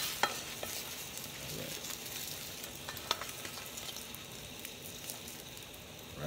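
Food frying in a pan as it is turned over gives a steady, fairly close sizzle throughout, punctuated by a few sharp scraping ticks from the utensil. No voices.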